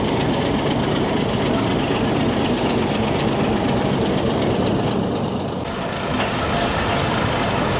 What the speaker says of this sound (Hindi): 3 कोचेस के साथ है डेरा गाजी खान शटल ट्रेन।